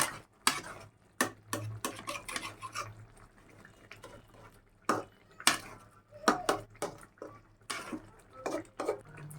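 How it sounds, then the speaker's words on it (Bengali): A spoon stirring chicken and yogurt in a cooking pan, giving an irregular series of sharp metallic clinks and taps against the pan, fairly close and otherwise quiet. "দই দিয়ে আমি আবার একটু এটা লাড়াচাড়া করে নিব।"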